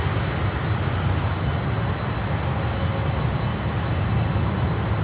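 A cargo jet departs Miami airport, producing a steady, loud, broadband engine roar that holds evenly throughout with no voices.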